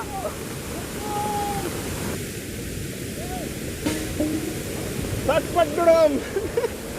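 Goyar Falls near Karwar roars in full monsoon flow as a constant broad rush of water, while people talk close by over the noise.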